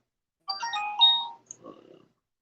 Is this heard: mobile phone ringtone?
yes